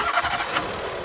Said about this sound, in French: Est-ce que le moteur redémarre normalement après tout ce genre d'essai un peu farfelu?